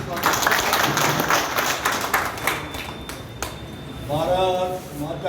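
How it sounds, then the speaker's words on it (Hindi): An audience claps to welcome Rajasthan Rajya Sabha MP Rajendra Gehlot at a felicitation ceremony, dense steady applause for about three seconds that thins out before a voice begins speaking over the crowd. "इससे पहले एक बार इनका जोरदार तालियों से स्वागत।"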